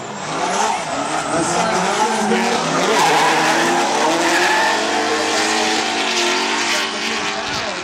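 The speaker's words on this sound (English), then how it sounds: "Cyrus getting really deep on that initiation, correcting." A drift car at a drift competition slides deep into an initiation, tires squealing in one long, loud, continuous screech over a roaring engine, with no talking.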